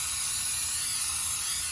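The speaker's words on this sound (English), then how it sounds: "and then I get the brake cleaner" Brake cleaner sprays from a can onto an oil spot on the ground as a steady, close, hissing burst lasting under two seconds.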